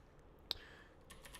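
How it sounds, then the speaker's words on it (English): A computer keyboard is typed on in a brief, quiet burst: one crisp key click followed by a few soft taps, close to the microphone with no talk. "I'm just terrible at typing today."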